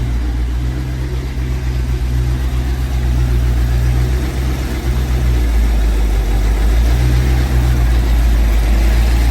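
A car engine, just brought back to life after a motor repair, runs loud and close with a steady deep idle and slight fluctuations in pitch, with no talking over it.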